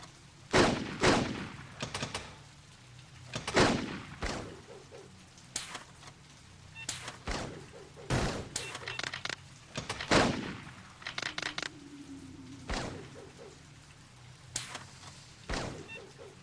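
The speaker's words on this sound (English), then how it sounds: "Target and shoot all threats" Sharp gunshots crack in the Blade Runner video game, single shots and quick bursts spread irregularly across the stretch, loud and close with echoing tails and no voices over them.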